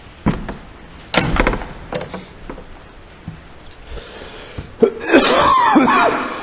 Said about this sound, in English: I cough, cough, cough.